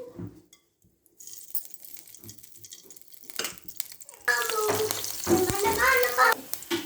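Green chillies fry in hot ghee for semiya upma, a soft sizzle that rises to a louder, steady crackle in the second half, with faint stirring and brief voices underneath.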